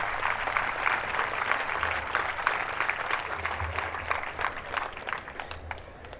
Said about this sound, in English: I would request a resounding applause for her.